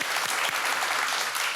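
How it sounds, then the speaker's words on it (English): Studio audience of a TV talk show breaking into applause, a dense, loud burst of many hands clapping close up, unbroken through the short stretch. "yeah, go ahead and applaud."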